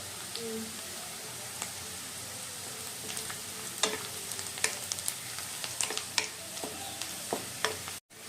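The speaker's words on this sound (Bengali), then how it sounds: "এখন উপর থেকে দিয়ে নিচ্ছি গোটা গরম মশলা আর সাথে দুটা শুকনো লঙ্কা" Whole garam masala and two dried red chillies hit hot oil with frying onion over a high gas flame, giving a steady close sizzle with scattered pops and crackles and occasional stirring scrapes.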